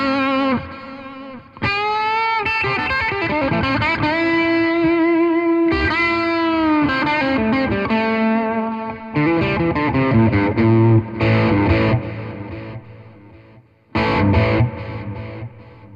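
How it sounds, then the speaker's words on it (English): Distorted electric guitar through a LEKATO Tank G multi-effect unit, using a darker patch with delay and a touch of reverb; sustained chords and melodic phrases ring out with echoing repeats and a few short gaps. "Nice use of delay and a little bit of reverb"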